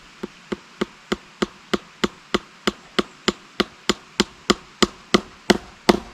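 Nails are hammered into hard charred timber as a steady series of about twenty sharp, loud, close blows, evenly spaced and quickening slightly toward the end.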